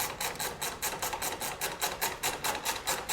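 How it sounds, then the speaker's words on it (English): A 1/2-inch ratchet tightens hardware on a visor for a rat rod, giving a fast, steady run of close, crisp clicking pulses that repeat evenly, with nothing else heard. "1/2-inch ratchet."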